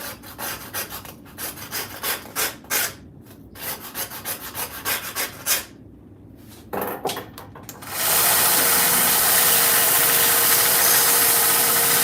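Wood is worked by hand with short scraping rubs and pauses, then a belt sander starts and runs with a steady loud abrasive roar as it rounds the edges of the piece.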